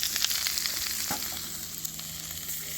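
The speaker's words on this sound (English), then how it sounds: "Put a little oil down and get our chorizo on." Chorizo fries in a little oil on a griddle with a steady, close, crackling sizzle and faint spatters throughout, and no one speaks.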